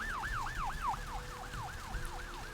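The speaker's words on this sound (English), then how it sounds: "I hear a siren" Wailing emergency siren from the video game Vampire: The Masquerade Bloodlines, a steady repeating up-down sweep cycling about twice a second, moderately loud over a low rumbling city backdrop with no talking.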